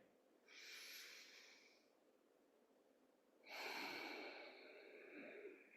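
A group inhales deeply together during a meditation sit, one long soft breath in followed by a fuller, louder breath out, quiet and close with no talk.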